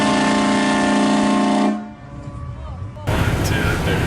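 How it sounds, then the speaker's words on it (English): A Horn Blasters train horn fitted in a Honda Civic blares loud and close as a sustained chord, cuts off, and after a brief gap a harsh blast starts again. "put a train horn in a Honda Civic, and it'll sound like a freaking freight train going right toward you"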